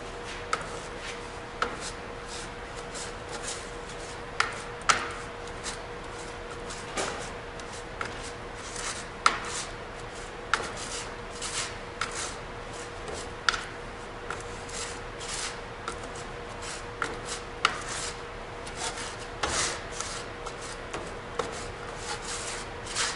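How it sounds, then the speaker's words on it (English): Casting sand being mixed in over a pattern for sand casting, a quiet continuous gritty rubbing and shuffling with scattered soft taps, close and steady, with no talk. "So mixing the sand in."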